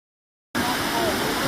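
Multnomah Falls in Oregon pours down as a steady, dense wash of falling water, starting abruptly after a brief silence and holding loud and constant for about a second.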